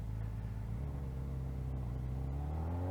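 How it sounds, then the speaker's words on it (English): Kawasaki Ninja ZX-4RR motorcycle engine on the road, a steady close whine whose pitch steps down through quick-shifter downshifts, with wind rush underneath and no talk. "Quick shifter down is smoother than the MT-09."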